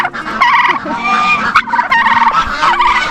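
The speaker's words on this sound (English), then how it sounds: "We do still have some turkeys." Turkeys gobble repeatedly at close range, several rattling calls overlapping in quick bursts with barely a pause between them.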